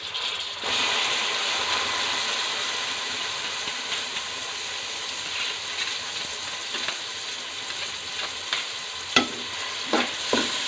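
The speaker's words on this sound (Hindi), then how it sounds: "इसे मसाले में अच्छे से भून लेंगे" Boiled mash lentils sizzle steadily in hot spices in a pan while a spoon stirs and scrapes, with occasional clicks and knocks toward the end.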